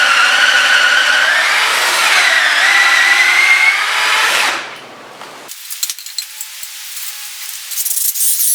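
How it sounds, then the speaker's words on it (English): A power drill boring a hole in wood, guided slowly at first, giving a continuous high whirring grind for several seconds that stops abruptly, followed by quieter scattered clicks and handling noises. "get my hole started, and then I'm going to just drill it in"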